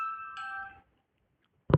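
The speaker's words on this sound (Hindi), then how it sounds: "अरे किसका फोन आया" A mobile phone rings with a bright, steady electronic tone for under a second, then goes quiet, followed by a short thump at the end.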